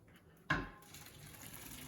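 Boiled pasta water is poured out of a pot: a soft splash starts suddenly, then settles into a faint, steady flowing rush.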